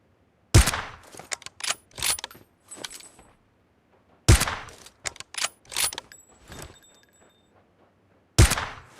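AWM sniper rifle fire in the mobile game PUBG Mobile on the Miramar map, three sharp loud shots spaced a few seconds apart, each followed by clattering bolt-action reload and brass clinks.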